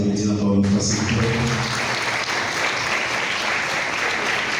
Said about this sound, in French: je vous demande de les applaudir encore une fois